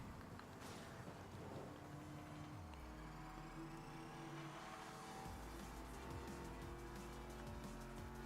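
A car driving in the video game Need For Speed Most Wanted, a steady engine hum with gear shifts and a rising whine, fairly quiet and continuous with no talking.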